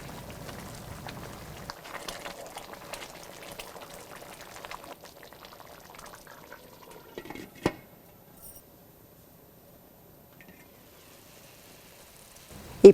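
Egg biryani rice boils in a covered pot on the flame, giving a soft bubbling hiss that fades to near quiet partway through, with a sharp click midway and another at the end.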